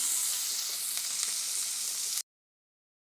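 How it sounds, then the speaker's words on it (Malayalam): Onions sauté in a pan with a loud, close, even sizzle for about two seconds, then everything cuts to silence before a short burst at the very end. "ഇത് നന്നായിട്ട് വഴറ്റിയെടുക്കുക കേട്ടോ"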